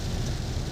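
Rain falling in a street during a red alert in Morbi, a dense, even hiss of steady rainfall heard alone for under a second.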